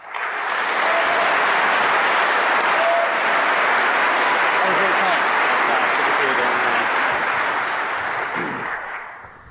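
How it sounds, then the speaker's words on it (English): A conference audience at DEF CON 24 gives a speaker sustained applause, dense clapping rising quickly and holding steady for several seconds before tapering off. "Let's give our first speaker a big round of applause."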